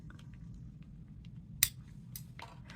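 Scissors trimming a sewn fabric strip at a marked line, one sharp snip standing out against a quiet background, followed by a couple of fainter clicks.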